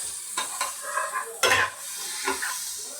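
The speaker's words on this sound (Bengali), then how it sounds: "তো রসুনগুলো আমি একটু ভেজে নেব।" Garlic fries in a pan with a soft sizzle while a utensil stirs and scrapes, giving several light clinks and one louder scrape, close by with no talking.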